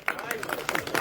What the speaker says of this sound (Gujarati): એકવાર તમારા માટે તાળીઓ થઈ